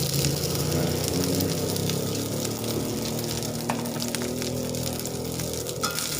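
Cooked white rice sizzles and fries in a hot pan for Sundanese nasi goreng with pete cina, a dense, steady crackle with occasional stirring scrapes, close and loud, with no talking.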